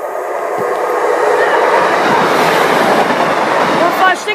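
A train, unit 156408 bound for Doncaster, passes Rowston North level crossing in Lincolnshire, a loud sustained rumble with rail clatter and a brief squeal as it goes by close.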